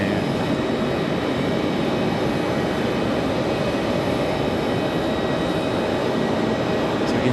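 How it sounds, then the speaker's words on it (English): Aeromexico Embraer E190 airliner arriving at Raleigh-Durham, a steady, even jet roar with a faint high whine running through it, loud and constant. "so Aero Mexico coming in on an E190"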